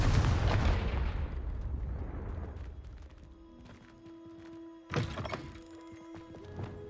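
A Confringo fire spell in Hogwarts Legacy bursts with a heavy booming thud that rumbles and fades over a few seconds, followed by a sharper second impact and lighter clattering.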